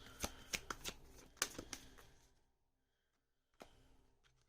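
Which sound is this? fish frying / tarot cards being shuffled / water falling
tarot cards being shuffled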